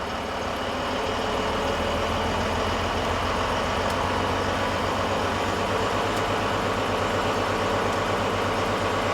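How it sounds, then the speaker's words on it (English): A diesel engine held at high idle during a DPF cleaning test, a loud, dense, continuous drone with a steady low rumble that holds unchanged throughout. "Just kick to high idle and put it to the max, all the way up."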